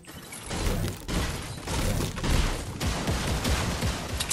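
Sustained bursts of gunfire from a shooter video game, rapid overlapping shots and impacts crackling loudly and continuously throughout with no pauses.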